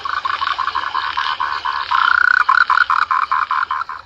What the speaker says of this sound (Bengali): দেখো তোমাদের ব্যাঙের আওয়াজ আছে এখানে।